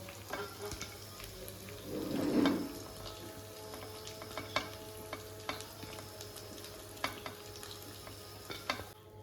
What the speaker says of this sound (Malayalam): ബാക്കി ചിക്കനും കൂടി വറുത്തെടുക്കാം